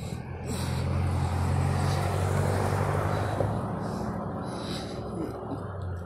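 Loud road traffic passing close by, a sustained roaring rush of vehicles with a low engine hum that swells and lingers, heard from the roadside while walking.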